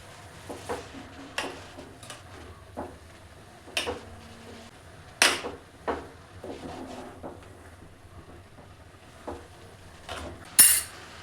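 Radish greens are stirred and fried in oil in a pan for a home-style palya, with intermittent metal clinks and scrapes of a utensil against the cookware and a quiet background.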